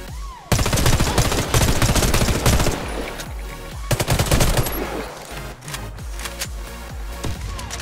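A PM-84 Glauberyt submachine gun fires in the video game Warface, loud rapid automatic bursts of close gunfire that start abruptly, pause briefly midway and then continue more sparsely with trailing shots.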